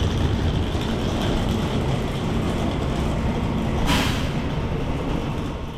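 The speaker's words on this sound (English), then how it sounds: "watch this Stadler KISS unit arrive on a local service" Stadler KISS electric train arriving on a local service at a cold station, a steady low rumble and rolling hum with a brief hiss of air brakes near the end, fairly constant and moderately loud.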